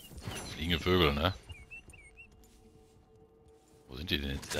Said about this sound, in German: Vögel, ne?